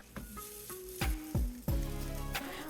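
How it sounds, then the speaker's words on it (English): A burger patty fries in a pan without oil, sizzling steadily with a few sharp thuds and scrapes as it is pressed or moved, close and fairly quiet. "I'm just pan frying the burger patty without any oil for 5 to 6 minutes"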